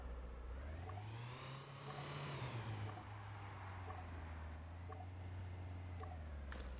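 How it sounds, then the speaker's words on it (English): A truck drives nearby in the military game Arma 3, its engine a steady low hum that swells and eases as it moves around, fairly close and continuous. "I hear a car moving around."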